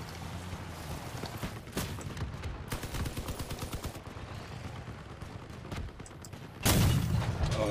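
Heavy 88mm cannon mounted on a truck in the vehicle-combat game Crossout fires repeatedly amid rattling gunfire, with sharp booming blasts through the clip and a loud close shot near the end.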